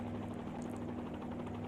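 A helicopter hovers in a flight simulator game, a steady low rotor and engine drone with a constant hum, moderately quiet and continuous with no voices.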